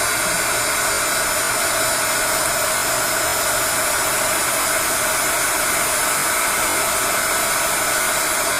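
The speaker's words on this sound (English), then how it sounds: "But the heat gun will help." A heat gun blows a constant, loud, even hiss of hot air over thickly applied mixed media paint to dry it, running without pause.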